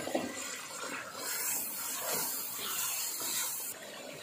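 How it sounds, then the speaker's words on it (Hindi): Water is sprinkled onto a chicken karahi spice paste in a hot pan. It gives a loud, steady sizzling hiss that rises and holds for a few seconds before easing off. "ये देखें बस थोड़ा सा पानी का हम छिड़का लगाएंगे ताकि मसाले हमारे इसमें ज़्यादा हो जाए"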